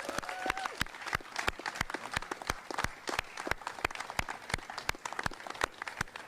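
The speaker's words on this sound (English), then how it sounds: "please give a hearty round of applause to Senator Tom Carper" Outdoor audience at a riverfront bridge dedication clapping for a senator, heard as a steady run of sharp, evenly spaced claps rather than a dense roar, fairly close and without talk.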